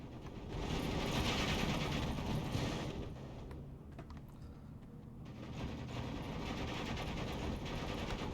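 Machine gun fire in the Steel Division II wargame as it bears on Ski Fusiliers, a dense crackle of rapid bursts that runs loud and steady at first, eases midway, then picks up again under a continuous battle din.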